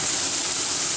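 Green peas hit a very hot saucepan for mushroom risotto, a steady loud broadband sizzle and hiss filling the whole moment with no voices.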